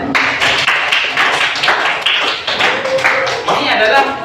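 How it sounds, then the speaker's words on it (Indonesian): A classroom group claps in loud, uneven bursts close by, mixed with chatter and voices over several seconds. "Tepuk tangan dulu buat kalian semua ya."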